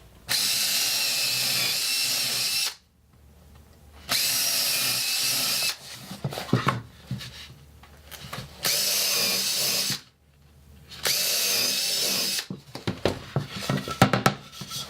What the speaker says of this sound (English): my cordless drill fitted with a countersink bit. I'm going to pre-drill these holes